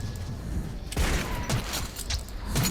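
Rapid bursts of gunfire in the video game Metro 2033, several sharp cracks scattered over a few seconds against a rumbling game background.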